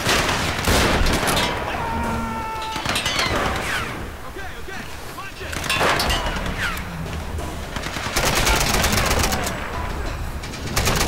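Rifle fire in Tomb Raider (2013), rapid sharp cracks in bursts around the start, middle and end, set against outdoor ambience with bird chirps and cooing.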